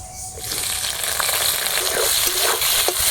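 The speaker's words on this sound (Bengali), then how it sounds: "তেলটা গরম হয়ে গেছে কুচনো পেঁয়াজ আর কাঁচা লঙ্কা দিয়ে দিচ্ছি" Chopped onion and green chilli hit hot mustard oil in a kadai, a loud, close, steady sizzle that swells after a quieter first half-second, with faint stirring ticks through it.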